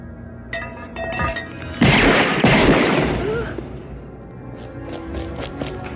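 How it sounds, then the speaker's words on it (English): Sharp, loud bangs, one a heavy booming burst, ring out in quick succession over a noisy background, with a few voices in between, in a scene from the 1988 film Child's Play. "Them are gunshots, little man"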